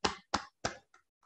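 Three soft, distinct hand claps in slow, even rhythm during a meditation session, followed by two fainter taps, close and quiet with no talking.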